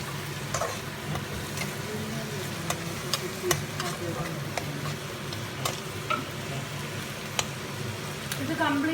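Chopped onions and green chillies deep fry in oil for a chicken gravy, giving off a steady close sizzle. Sharp clicks and taps of a stirring spoon against the pan break through it at irregular moments.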